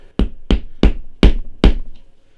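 Leaking batteries are knocked out of a Maglite flashlight against a piece of MDF, five loud, hollow thuds in a fairly even rhythm, close and clear, followed by a faint softer tap.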